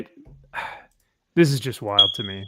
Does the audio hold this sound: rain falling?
no